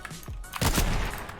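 A gunshot blast rings out in a Fortnite match, one sharp loud report followed by a brief rumbling decay, up close.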